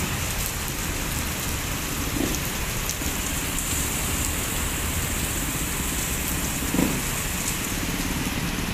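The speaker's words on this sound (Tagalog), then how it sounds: "Lakas ng ulan siya." Heavy rain pours down steadily in a dense, constant hiss, drumming on surfaces close by, with no voices.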